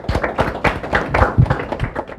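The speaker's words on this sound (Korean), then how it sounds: "박수 한번 쳐주시고" A small group of students claps in a lecture hall, uneven individual claps tapping out a loose rhythm for about two seconds, close and fairly loud with no talk over it.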